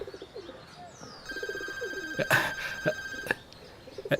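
An electronic phone ring sounds partway through, a steady tone held for a couple of seconds, with birds cooing and chirping and faint voices around it.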